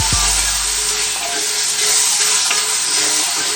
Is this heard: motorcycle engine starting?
no